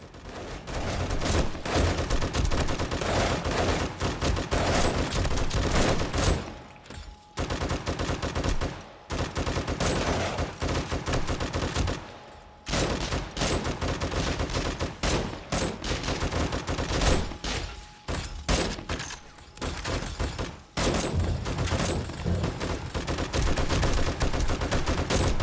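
Automated turrets in 7 Days to Die firing in dense, rapid bursts, loud and nearly continuous with a few short pauses between volleys, with no talking.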